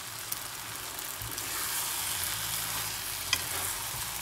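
Arrabbiata pasta with chicken in a generous tomato sauce is stirred slowly with a spoon in a pan, giving a steady close frying sizzle with soft scraping and a brief clink near the end, with no talk.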